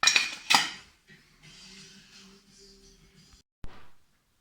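Metal steamer pots clank and clink a few times, sharp knocks with a ringing hum between them, close by and fairly quiet.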